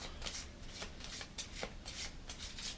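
Cards shuffled by hand for the Tau Ceti Planetary Crisis board game, a close, steady series of riffling bursts and rustles with no talking.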